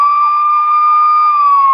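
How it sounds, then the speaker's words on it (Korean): A toy police robot plays an electronic siren effect, a loud, steady wailing tone with rapid warbling sweeps that runs without a break. "사이렌 소리"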